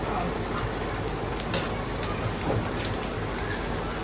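Pork back fat frying on a Tokyo ramen shop cooker crackles and sizzles in a dense, steady hiss, with scattered sharp pops from water bursting out of the fat, close and fairly loud.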